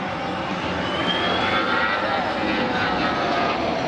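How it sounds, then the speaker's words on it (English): An Airbus A319 jet airliner roars steadily overhead with a constant broadband rush, a faint whine sliding across the noise. "This Airbus A319 flying really close to another plane."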